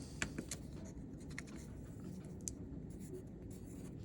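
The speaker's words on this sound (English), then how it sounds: "So I'm going to write that down this time so we know where we got that number from." Marker or pen writing numbers on a board during a middle-school math lesson, with soft scratchy strokes and a few taps in short bursts over a steady low room hum.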